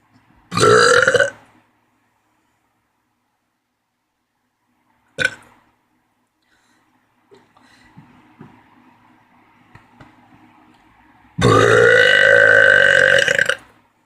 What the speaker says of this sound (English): it's where you breathe in like this and burp like this